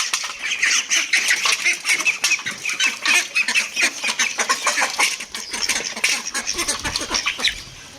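A flock of chickens clucks and squawks continuously nearby, mixed with chick and duck calls while being fed leftover food, busy and overlapping with no talking.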